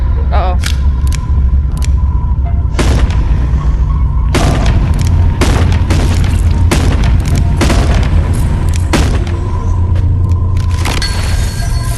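Revolver gunshots in the Animal Company video game, a series of sharp loud booming shots fired in irregular bursts with gaps between, close and punchy over a low steady hum.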